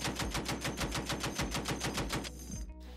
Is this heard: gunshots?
yes